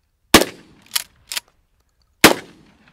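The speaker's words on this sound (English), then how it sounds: "I forgot what it feels like to shoot a 12 gauge." A 12 gauge shotgun fires four sharp, loud blasts outdoors, the first two close together, then one more, and a final one after a short pause.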